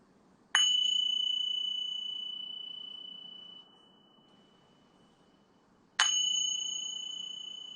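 A meditation bell strikes twice at the close of a live practice session, each a bright, clear ring that lingers and fades slowly, the second stroke coming about five seconds after the first, in an otherwise silent room.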